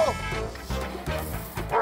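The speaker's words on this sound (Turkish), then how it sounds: "Köpek var oğlum, köpek." A dog barks in a few short bursts within a busy, music-heavy comedy scene, with the barks set into the mix rather than standing alone.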